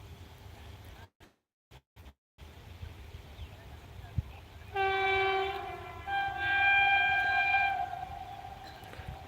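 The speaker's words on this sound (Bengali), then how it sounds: "ওয়াপ ফোর লোকোমোটিভ নিয়ে ইন্টারসি ইন্টারসিটি এক্সপ্রেস বলাগড় ঢুকছে" Intercity Express train hauled by a WAP-4 locomotive entering Balagarh station amid paddy fields, sounding a loud sustained multi-tone horn in two long blasts over a low rumble, with the run-in heard only faintly at first.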